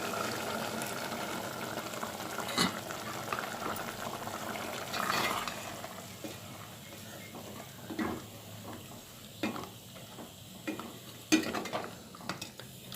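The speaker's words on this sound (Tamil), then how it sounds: "நல்லா கொதிச்சுட்ருக்கு இப்போ புளியை வந்து தண்ணி வந்து ஊற்றிக்கலாம்" Soft bubbling of a pot of tamarind curry with cowpeas and eggplant simmering on the stove, with occasional stirring clinks and scrapes punctuating the low, steady boil.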